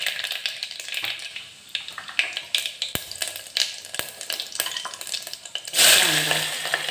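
Mustard seeds and cumin sizzle and pop in hot oil in a pan for dal khichdi, a loud, close, continuous fry broken by sharp crackles and stirring clatter, with a brief louder burst near the end.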